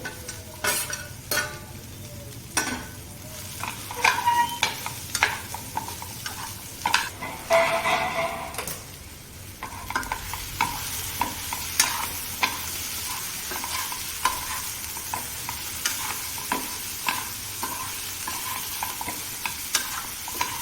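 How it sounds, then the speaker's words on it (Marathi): Okra sautés with ginger-garlic paste and turmeric in a hot pan, a steady frying sizzle punctuated by frequent close scrapes and taps of a spatula stirring the vegetables. "आलं लसणाची पेस्ट टाकली थोडीशी हळद टाकली तर त्यामध्ये भेंडी आपण आता चांगली परतून घ्यायची"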